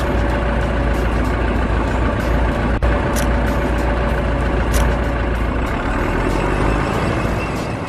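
A heavy bulldozer engine idles steadily at close range, a continuous low diesel rumble with a brief clank near the middle, in a kids' construction vehicle app.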